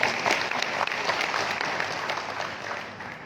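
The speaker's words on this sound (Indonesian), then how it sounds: "Tepuk tangan untuk kita semuanya." A lecture audience of party cadres in East Kalimantan breaks into sustained applause, a dense wash of clapping that fades slightly toward the end.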